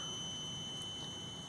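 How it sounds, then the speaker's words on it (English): A burglar alarm system's buzzer sounds a steady, high, continuous electronic tone, faint but unbroken throughout, with no talking. "turn off the buzzer."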